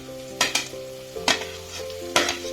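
Beans and carrots frying in oil in a pan for vegetable Maggi noodles, with three sharp stirring scrapes breaking through a steady low sizzle, close up and with no voices.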